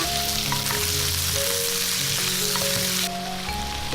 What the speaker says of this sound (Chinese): 鸭肉炒到上面有点焦斑，就把姜放进来，继续翻炒一下。